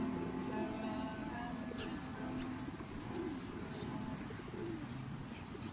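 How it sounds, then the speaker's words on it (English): Pigeons or doves cooing at a steady level throughout, mixed with other bird calls and a dense low background, heard during a live performance. "There's a bird."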